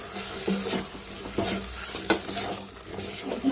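Tomatoes and masala sizzle and fry in a pan for a chicken gravy, with steady crackling and occasional stirring scrapes close up, no talk over it.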